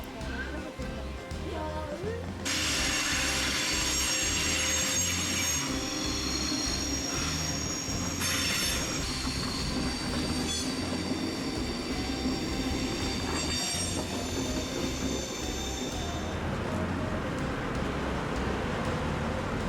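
A mainline train rumbles past on a railway bridge near a funicular, with rhythmic clatter, while a ringing level-crossing bell and shrill tones run over it for several seconds.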